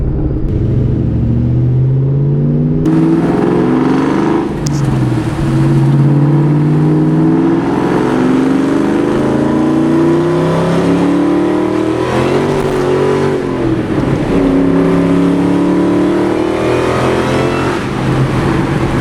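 A supercharged Ford Mustang Cobra fitted with a cold air intake accelerates slowly, its engine rumbling and rising steadily in pitch, loud and close from inside the car, with no talking.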